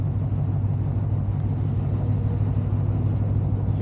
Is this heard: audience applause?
no